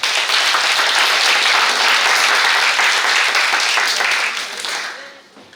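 An audience applauds at a youth social participation presentation contest, a dense, loud burst of clapping that holds steady and then fades out near the end.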